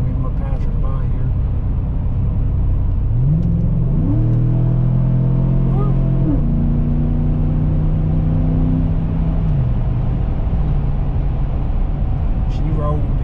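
Chevrolet Silverado pickup engine accelerating hard, loud revs climbing in steps through shifts and then holding a steady high drone before easing off, heard from the cab.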